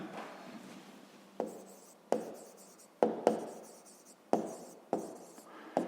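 A pen scratches across paper while working a fifth-grade maths exercise, short strokes broken by several sharp taps, close and quiet with no talk.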